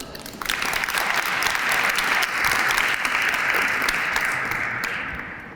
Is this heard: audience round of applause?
yes